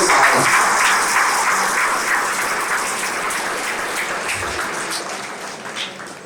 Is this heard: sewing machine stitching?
no